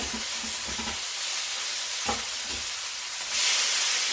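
Teriyaki chicken burger patties sizzle on a grill as they are turned, a steady hiss with a few soft scraping clicks and a brighter burst of frying near the end.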